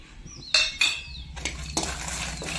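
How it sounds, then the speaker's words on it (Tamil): About twenty dry red chillies roasting in a bare pan without oil, heard as a few sharp metallic scrapes and clanks of a spatula over a light frying crackle, close by and brief. "அதை வெறும் சட்டியில் போட்டு எண்ணெய் ஊற்றாமல் வறுத்து எடுத்துக்கேன்"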